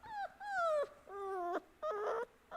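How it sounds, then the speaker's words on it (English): A puppy whimpers close by in a handful of high, wavering whines, each under a second long, separated by short gaps in an otherwise quiet room. "the puppy, wants some milk"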